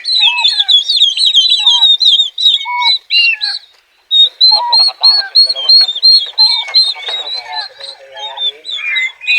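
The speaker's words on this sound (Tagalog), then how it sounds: "So ito pa yung pabo natin mga kabrado" Turkeys on a small farm give a near-continuous run of close, loud chirping and clucking calls, overlapping one another, with a brief lull before the calls resume.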